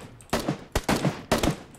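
Gunfire in PUBG Battlegrounds, a first-person zombie challenge match, with three loud, sharp shot bursts at irregular intervals, each ringing with a short echoing tail and no talk over them.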